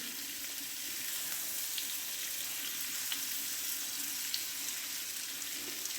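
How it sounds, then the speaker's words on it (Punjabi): Spices fry in a pan for an instant carrot pickle, with a steady, fairly soft sizzle running unbroken throughout and a few faint clicks of stirring. "5 ਤੋਂ 7 ਮਿੰਟ ਵੀ ਲਈ ਆਪਾਂ ਇਹਨਾਂ ਮਸਾਲਿਆਂ ਨੂੰ ਪਕਾ ਲਾਂਗੇ ਜੀ"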